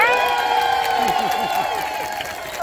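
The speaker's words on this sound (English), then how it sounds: "Applause for the interpreter." Crowd at an outdoor Lights for Liberty rally in Indiana claps and cheers for a sign language interpreter, a short burst of mixed applause and whoops with a raised voice ringing over the noise.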